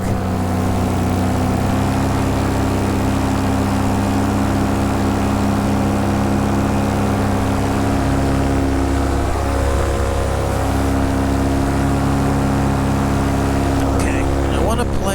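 A paramotor engine drones steadily in flight high over a deep copper mine, its loud, even propeller hum and buzzing harmonics filling the air without a break.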